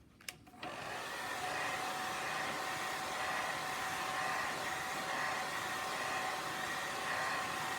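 A hair dryer blows on a watercolor painting with gouache, switching on after a short click and then whirring loud and steady for several seconds with no talk.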